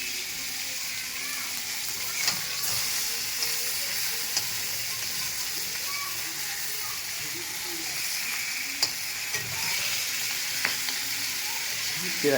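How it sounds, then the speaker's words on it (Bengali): Rohu fish heads fry in a pan of hot oil, giving a steady, close sizzle with a continuous crackling hiss and occasional sharper pops and spatters throughout, with no talking. "ভাজা হয়ে গেছে মাথাগুলো"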